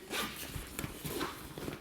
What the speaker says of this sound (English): you got zipper access here to give you some extra storage space